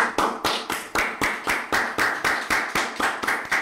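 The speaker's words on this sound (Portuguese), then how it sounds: "Salva de palmas pra ela" A small group claps together in a steady, even rhythm, about three claps per second, welcoming a guest onto a podcast; the claps are close, crisp and sustained with no talking over them.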